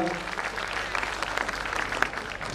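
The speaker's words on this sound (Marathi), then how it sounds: "टाळ्यांचा जोरदार गजर करूया" An audience claps at the Mumbai mayor's award ceremony, a steady dense wash of applause lasting the whole moment at moderate volume, with a faint murmur of voices underneath.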